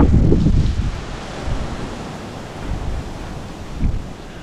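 Strong wind buffets the microphone in low rumbling gusts, rising and easing over a continuous rushing background, outside St Rumwald's Church in Bonnington.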